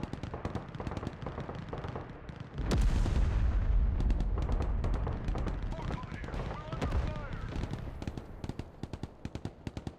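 Mark 19 grenade launchers firing in the game Broken Arrow: a dense run of sharp, repeated bursts and heavy thumps. A loud, sustained blast sets in near the middle, with mixed battle noise continuing beneath.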